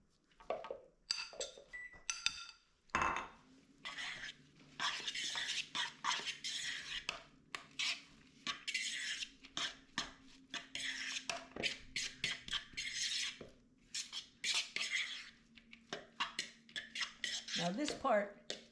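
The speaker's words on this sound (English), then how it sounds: "now we're going to put in our potatoes that we've just shredded" Shredded potatoes go into a beet pancake batter made with a touch of milk, giving repeated wet clinks and scrapes of a utensil against a bowl. The mixing sounds run steadily and close, with a low hum underneath and no talk.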